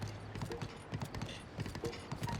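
Horse hooves clip-clopping in Zelda: Breath of the Wild, a steady close rhythmic trot of paired hoof strikes with faint game ambience.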